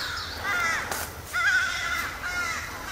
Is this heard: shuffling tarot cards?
no